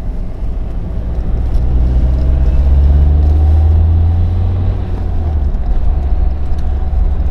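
A Renault Laguna 3 car cruises along the road, heard from inside as a steady, loud low engine and road rumble that swells slightly mid-drive, with no talking.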